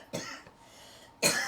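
Two short coughs from someone in the background of a quiet room, spaced about a second apart, the second sharper and louder.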